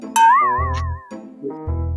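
A voice mimics a cat with a drawn-out, wavering meow, then a couple of shorter meow-like calls, loud and close.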